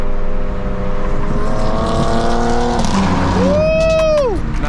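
A tuned BMW M2 accelerating hard on a New York City highway, a loud, steady engine roar with rising gear pitch, capped by a sharp tire squeal near the end.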